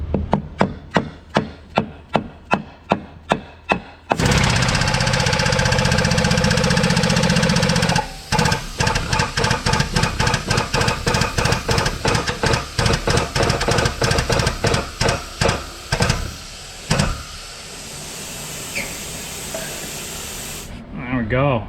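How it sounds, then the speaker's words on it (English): A differential bushing is pressed into a suspension housing in a fabrication shop, with a loud continuous hiss running beneath rapid rhythmic pumping knocks that slow and fade toward the end. "Let's go press it in the housing."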